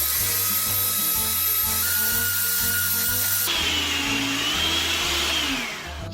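An electric hand mixer whirs steadily through banana bread batter made from green bananas, eggs, melted butter, vanilla and sugar, a loud close motor hum with slight pitch shifts as the beaters move, easing off at the very end.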